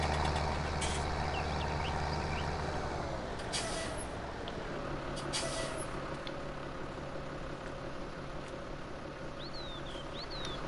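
In Farming Simulator 19, a truck idles close by with a steady engine rumble, a few sharp pneumatic air-brake hisses rise and fall early on, and faint bird chirps appear near the end.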